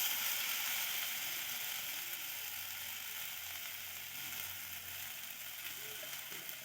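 Blended lentil paste frying in a pan, a continuous bright hiss and fine crackle held at an even level throughout, with no voices.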